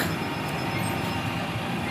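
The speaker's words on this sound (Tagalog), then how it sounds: "Naabot na ang truck." A concrete batch truck rumbles steadily at a box culvert construction site, a continuous low heavy-vehicle drone, fairly close and unbroken through the brief moment.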